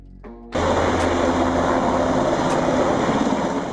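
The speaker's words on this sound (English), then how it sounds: "Coastguard Helicopter." A coastguard helicopter suddenly roars in after a brief quiet lead-in, its engine and rotor drone loud, steady and close for the rest of the moment, with no voices.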